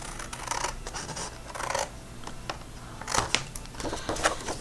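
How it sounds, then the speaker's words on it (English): Scissors snip through a paper coupon holder to cut off a tab, giving a handful of short, close, crisp cuts and paper rustles with pauses between. "then we're going to cut this tab here off."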